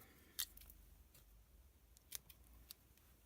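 Scissors snip the end of a ribbon or paper on a handmade masculine gift bag, a few quiet crisp cuts close by in an otherwise hushed setting.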